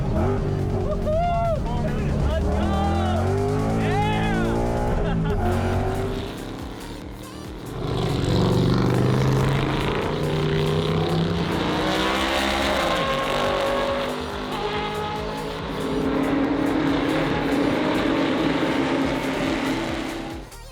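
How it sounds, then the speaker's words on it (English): Vintage race cars roar down the straight at Laguna Seca, a loud continuous engine drone with rising and falling pitch as cars pass, heard beneath steady talking throughout. "when you see vintage race cars barreling down the straight of Laguna Seca"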